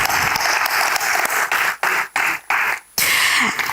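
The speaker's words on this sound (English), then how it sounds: "Huge round of applause." Audience applause at a neurodiversity summit, a dense wash of many hands clapping close by, broken by a few brief dips before surging back at full strength.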